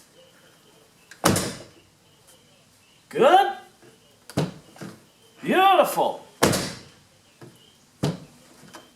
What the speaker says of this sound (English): Now we're ready to try out the door.